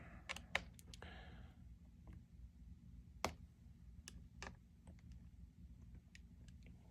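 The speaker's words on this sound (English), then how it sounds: "That clicking sound's the thumbstick." The thumbstick on a Steam Deck handheld clicks as the console is taken apart to upgrade its storage, giving faint, sharp, irregular clicks and ticks spaced over several seconds in a quiet room.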